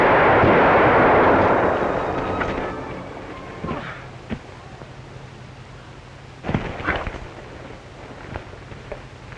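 A gunshot in an old western film: one heavy, booming report opens, then rolls off slowly over a couple of seconds, followed by a few fainter, scattered knocks and thumps.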